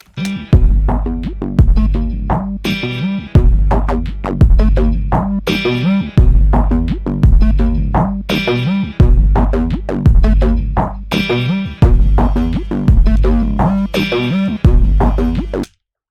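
A looping drum pattern with punchy kick and snare hits repeating in a steady rhythm, dense and loud, with compressed, pumping dynamics throughout.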